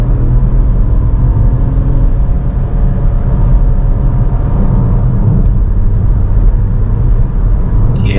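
A 2024 Ford Puma ST-Line engine drones steadily while driving, with a loud, continuous low rumble and road noise inside the cabin and no talking.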